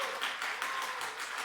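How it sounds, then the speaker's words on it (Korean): Audience applause at a university alumni chapel service, a steady, moderately loud patter of many hands clapping together throughout, with no talk over it. "여러분 박수 한번 하겠습니다"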